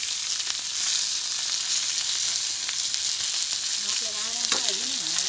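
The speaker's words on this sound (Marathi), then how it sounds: "इकडे तव्यावर थोडीशी करते मच्छी फ्राय करते" Fish frying on a hot griddle gives off a steady close sizzle throughout, with a short clink of utensils near the end.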